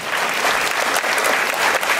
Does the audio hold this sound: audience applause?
yes